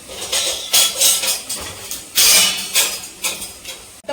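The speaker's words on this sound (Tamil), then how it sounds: "ரசம் வந்து பக்கெட்டுக்கு மாற்றிக்கலாம் வாங்க." Rasam being poured from a large pot into a bucket, with metallic scraping and clanking of vessels in repeated bursts, close and fairly loud, no talking.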